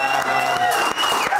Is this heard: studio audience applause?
yes